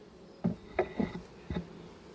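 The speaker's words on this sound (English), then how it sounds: "There's all the bees on the floor and they're just finding their way back home." Honeybees on the ground near an apiary hive entrance, finding their way home: a few short buzzing passes, quiet and close, separated by low background hiss, no talking.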